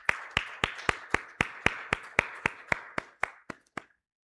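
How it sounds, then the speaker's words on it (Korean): A small Korean church congregation claps in unison to welcome a visitor, about fifteen sharp, evenly spaced claps in a steady rhythm that slows slightly and fades at the close. "예, 우리 한번 환영의 박수 하시겠습니다."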